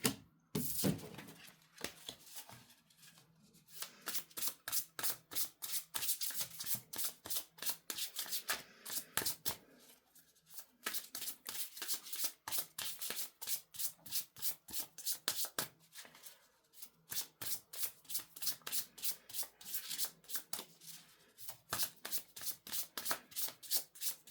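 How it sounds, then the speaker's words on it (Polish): A deck of tarot cards is shuffled by hand in long runs of rapid riffling flutters, broken by short pauses, close up with no talking. "Przygotowuję karty dla wodników."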